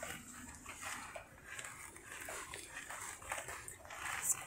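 Dogs bark and whimper behind a person during a First Amendment audit confrontation with police, a steady restless stream of yips and whines from close by with no clear talk over it.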